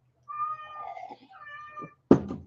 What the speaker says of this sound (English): I got to see what's wrong with my cat